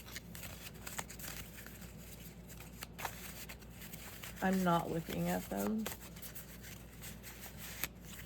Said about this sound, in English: I'm gonna close my eyes and I'm gonna shuffle them real quick.